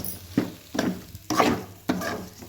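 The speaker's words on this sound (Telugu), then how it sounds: "మసాలా వేసిన తర్వాత లో ఫ్లేమ్లో కొద్దిసేపు వేయించుకుంటూ ఉంటే సూపర్గా ఉంటుంది." Chicken fry coated in masala sizzles in a pan over low flame, broken by four distinct scraping stirs of a spatula at roughly even intervals, close and fairly loud.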